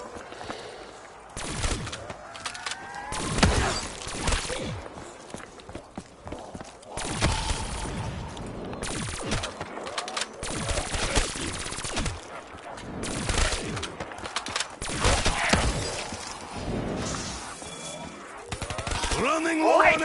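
Bursts of gunfire from the zombies mode of the video game Black Ops 3, with repeated shot clusters and fusillades spread through the clip alongside other in-game noise, fairly loud and dense.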